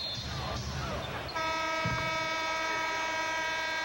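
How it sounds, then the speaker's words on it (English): A referee's whistle at a 1997 NBA Eastern Conference Semifinals game between the New York Knicks and Miami Heat, a long steady shrill tone blown once and sustained over arena crowd noise. "And another whistle."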